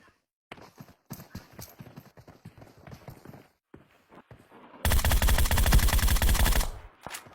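Sustained automatic gunfire from a PUBG Mobile match, a dense rapid burst lasting about two seconds after a stretch of quieter game sounds and scattered footsteps.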